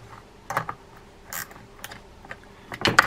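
The nut cap of a DAM Quick Champion 700B round baitcasting reel is being tightened, giving a few close, faint metallic clicks and ratcheting taps scattered unevenly across a few seconds.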